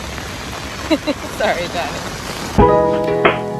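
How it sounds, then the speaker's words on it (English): Heavy rain pours down steadily in Kingston, Ontario, a broad wash of hiss that runs under brief nearby talk before the scene shifts to a louder, tonal background. "And it's pouring."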